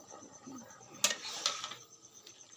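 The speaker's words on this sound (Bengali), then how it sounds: "ঢাকনাটা এবার উঠিয়ে দেখি।" A metal lid comes off a cooking pot of boiling pasta with a bright clank, then a second lighter rattle, over a soft background hiss.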